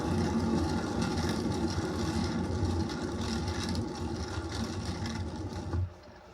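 A paint spinner whirls an acrylic pour painting, giving a steady motorized whir with a broad rumbling hum that runs continuously, then drops off sharply near the end as the spin stops.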